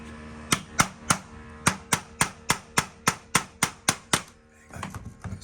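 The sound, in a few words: hammer and screwdriver knocking a door's top bolt loose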